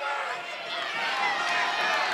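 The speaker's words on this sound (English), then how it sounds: "You can hear the stalling calls coming from the Kittatinny crowd now." Kittatinny home crowd at a High Point vs Kittatinny high school wrestling match shouting stalling calls, a loud, steady roar of many voices filling the gym without pause.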